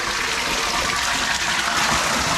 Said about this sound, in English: And now we'll drain this pool down the rest of the way where it needs to be.